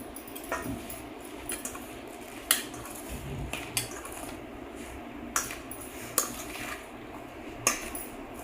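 A spoon mixes cooled, garlic-tempered oil into cucumber avakaya pickle in a bowl, with quiet, irregular clinks and scrapes against the bowl every second or so over a faint wet squish. The sounds are close, and no one speaks.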